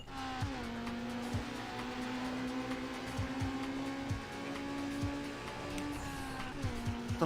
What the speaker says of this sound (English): Whoa, you hear that? It's got a new exhaust note.